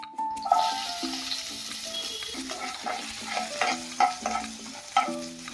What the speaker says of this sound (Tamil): ஜீரகம் நல்லா பொரிஞ்சதும் வரமிளகா, வெங்காயம் சேர்த்துக்கலாம்.